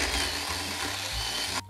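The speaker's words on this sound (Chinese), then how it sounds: "那我使用的是润的磨豆机" A Run brand electric coffee grinder grinds light-roast beans for espresso in a steady, loud, close whirring buzz that holds for under two seconds before cutting off abruptly at the end.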